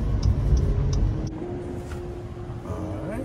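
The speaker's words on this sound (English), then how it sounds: "taking off in quiet mode. Oh, it picks up pretty quick." An Acura NSX pulls away in quiet mode, giving a smooth, subdued low engine hum and rumble that builds steadily from inside the cabin, fairly soft and refined, with no talking.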